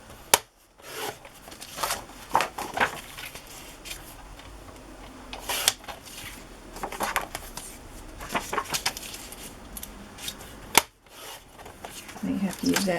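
Scissors snip through a piece of a paper journaling page for a wire-bound calendar journal, giving several crisp, close cuts and paper rustles scattered among ongoing talking.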